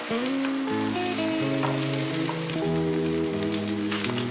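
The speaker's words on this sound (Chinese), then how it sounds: "油热了之后，把茄子放进来， 大约煎个3分钟左右" Eggplant frying in hot oil in a wok, a constant crackling sizzle throughout, close and steady, with gentle instrumental music underneath and no voices.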